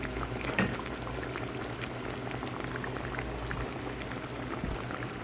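Hilsa fish curry with taro root simmering in a pot, a soft continuous bubbling and popping at low volume, steady from start to finish with no voices.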